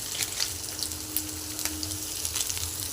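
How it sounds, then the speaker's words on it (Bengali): Potatoes fry with salt and turmeric in a pan, giving a steady soft sizzle with small crackles and pops scattered throughout, close and moderately quiet, no voices. "এবার আলুটা দিয়ে কিছুক্ষণ কষে নেবো।"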